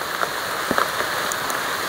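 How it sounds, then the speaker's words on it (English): Heavy rain falls steadily in a dense, even hiss of drops pattering on surfaces nearby, with no voices. "it's raining a lot"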